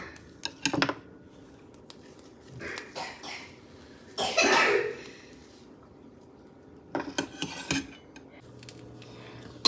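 Hard butter, straight from the fridge, is scooped from a container into a hot iron pan. A few sharp metal clicks and scrapes ring out near the mic, with a brief cough and quiet gaps in between.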